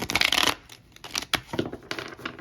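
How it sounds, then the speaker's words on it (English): Cards are shuffled up close in quick papery bursts and riffles, with brief soft pauses between them. "now I'm just going to shuffle another deck"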